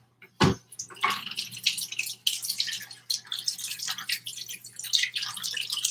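A measuring cup that held mayonnaise is rinsed under a running kitchen tap while potato salad is made, giving a close splash followed by steady, uneven trickling and spattering water with no talk.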